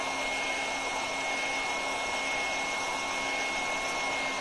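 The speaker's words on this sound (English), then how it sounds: "I'll hit that with the hairdryer" A hairdryer blows steadily on wet paint over a stencil, a constant whooshing hum with a faint whine, held at even volume throughout.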